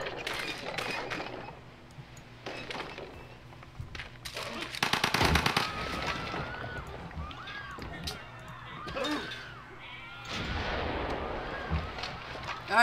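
Artillery fires in the strategy game Civilization V as bursts of booming impacts and rattling shots, loudest in a dense cluster near the middle, with someone talking over the battle sounds throughout.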